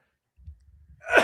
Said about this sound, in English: I sneeze, hold on.